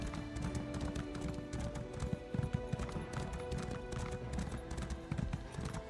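Horse hooves in Elder Scrolls Online clip-clop at a steady trot over a low, busy game soundscape, continuous and fairly close, with no talking.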